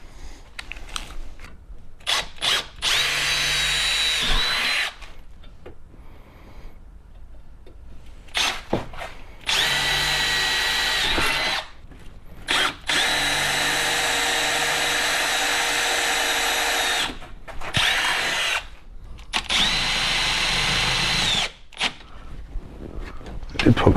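A power drill drives screws into a Club Car DS golf cart during a LiFePO4 battery conversion, heard as several sustained whirring bursts of a few seconds each, separated by short pauses, fairly close and loud.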